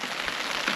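Steady rain patters on a surface, an even close hiss with soft scattered drops.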